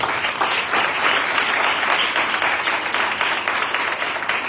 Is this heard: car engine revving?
no